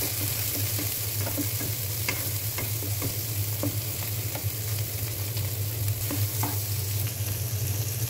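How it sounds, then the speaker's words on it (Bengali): Onion frying in oil in a frying pan, as the first step of a noodle dish: a steady close sizzle with light clicks of stirring against the pan over a low background hum, without any voices. "ফ্রাইপ্যানের মধ্যে তেল দিয়ে পেঁয়াজটাকে হালকা একটু ভেজে নিচ্ছি"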